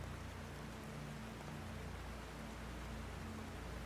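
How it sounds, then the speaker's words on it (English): Steady rain falls outside against café windows on an evening, a soft continuous hiss with faint patter and no voices, heard at low level throughout. "Rain still falls outside."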